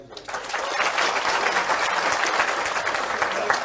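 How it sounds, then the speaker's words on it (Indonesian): An audience at a Maiyah gathering breaks into loud, dense applause that swells quickly and stays steady, with no voices heard over it. "Juga tepuk tangan untuk Kiai Kanjeng."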